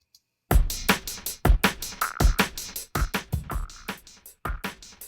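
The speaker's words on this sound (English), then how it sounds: "this electronic club dance beat, part of your Apple Loop library." A punchy electronic club dance drum loop from Logic Pro's Apple Loop library plays alone, with steady kicks, snappy hits and bright hi-hats in a driving rhythm.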